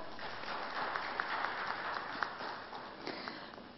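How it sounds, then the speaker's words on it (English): Audience applause at a panel discussion, a steady even patter of clapping heard at a distance and fairly quiet, with no talk over it. "can we have a round of applause for the chairman of LIC India, Mr. S.K. Roy"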